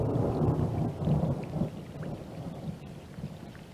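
Steady rain falls with low rolling thunder rumbling beneath it, a dense continuous wash of a rainstorm with no voices.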